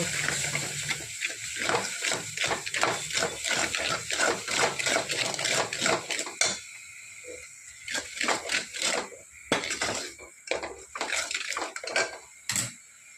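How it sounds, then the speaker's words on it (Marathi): About a litre of hot water poured into a pot of oil-fried masala for a clam curry, splashing and gurgling in uneven bursts alongside clinks of metal utensils, with quiet pauses between pours. "आता आपण एक लिटर एवढं गरम पाणी टाकत आहोत"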